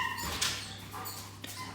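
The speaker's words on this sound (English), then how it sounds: "There's the two dogs are playing" Two dogs play in the background indoors, giving faint whines, yips and scuffling over a low steady hum.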